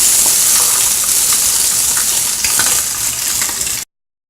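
Spam sizzles loudly in a covered pan on a stovetop burner set near high, a dense unbroken frying hiss with small crackles and pops, stopping abruptly near the end.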